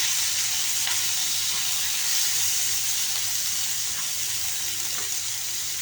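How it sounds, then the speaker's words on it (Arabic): Onions sautéing in a pan alongside sausages, a loud continuous hissing sizzle that stays steady throughout with no talk over it. "نحط معاه البصل. نشوح البصل"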